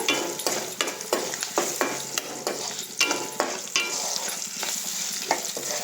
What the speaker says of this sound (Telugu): అన్ని ఇంగ్రీడియంట్స్ అయితే మంచిగా ఫ్రై అయిపోయినాయి